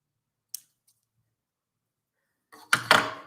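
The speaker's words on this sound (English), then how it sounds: "So I'm folding it in half, and then I'm just doing a little kind of V cut there." Scissors cutting a small V notch in folded material, a faint snip early on, then a couple of crisp close cuts in quick succession near the end.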